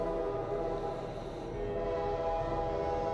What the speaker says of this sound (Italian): Senti il treno?